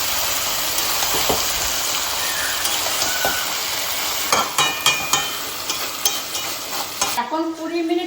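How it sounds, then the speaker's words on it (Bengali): Taro stolons hit a hot oiled pan and fry with a loud, steady sizzle, followed by a run of clattering spatula knocks and stirring before the hiss cuts off abruptly. "লতিগুলো চাপিয়ে দেবো"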